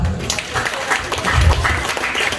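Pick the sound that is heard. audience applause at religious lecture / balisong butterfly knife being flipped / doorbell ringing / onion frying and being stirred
audience applause at religious lecture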